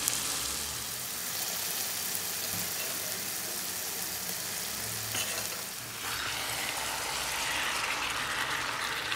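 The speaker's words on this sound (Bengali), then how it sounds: "তো এখন আমি ভুঁড়িগুলো জাস্ট মশলাটার সাথে মিক্স করে নিচ্ছি।" Tripe stir-fried with a cooked spice paste in a pan, a steady loud sizzle and frying hiss with scraping and stirring noises from a utensil, close up and continuous with no talking.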